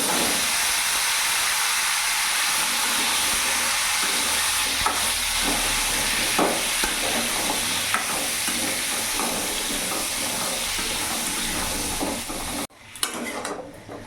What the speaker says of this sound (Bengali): কিছুক্ষণ নাড়াচাড়া করে ভেজে নিয়েছি